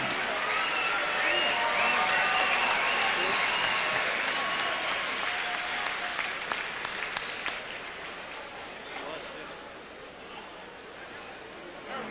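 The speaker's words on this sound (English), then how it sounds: "once again, a round of applause for both fighters" A live arena crowd at a K-1 kickboxing super fight applauds both fighters, dense sustained clapping loud at first and gradually thinning toward the end, with scattered voices mixed in.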